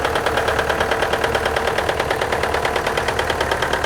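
A vintage tractor engine runs steadily at a steam fair parade, a loud, close mechanical chugging with a rapid even knock throughout.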